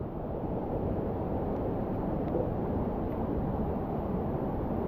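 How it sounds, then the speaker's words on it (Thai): Tad Yuang waterfall in southern Laos rushes as a steady, loud broadband roar that fills the whole stretch without letup, with no voices over it. "นี่เป็นบอลน้ำตกลงเนาะ บอลน้ำตกลงที่ เป็นน้ำตกตาดเยอะนะ"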